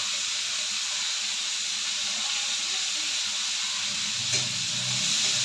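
Prawns frying in a wok with salt and turmeric give a steady, close hiss and sizzle that holds evenly throughout, with a slight swell of lower bubbling near the end.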